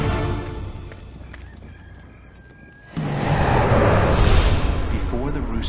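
A rooster crows loudly and close in the second half, following a quieter stretch of ambient noise at the start.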